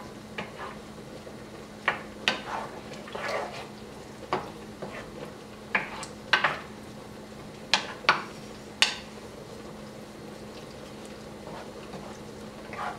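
Tomato basil pasta stirred in a pan on the stove, with a low steady sizzle under scattered scraping clacks of a utensil against the pan, loud and close, no one speaking.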